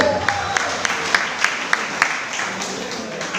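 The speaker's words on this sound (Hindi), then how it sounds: "जोरदार ताली होना चाहिए" Audience clapping at a DXN company sales seminar, a fairly steady wash of applause with a few sharp, evenly spaced louder claps standing out, while a faint voice carries on underneath.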